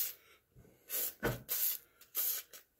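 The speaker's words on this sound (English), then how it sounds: "And then spray them down with some good penetrating oil." WD-40 Specialist penetrating oil sprayed onto the bolts of a Case Ingersoll RM mower deck, four short pressurized hissing bursts with brief pauses between them, close and crisp.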